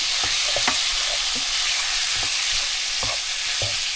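Chicken fried rice sizzles steadily in a hot pan while a utensil stirs it, giving a series of sharp scraping clacks at irregular intervals over the constant frying hiss, close and alone.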